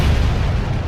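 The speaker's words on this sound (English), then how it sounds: "there was a massive explosion" A massive explosion at a chemical reactor after high-pressure gas venting, a blast equal to about 1,400 pounds of TNT, fills the second with a loud, sustained low rumbling boom.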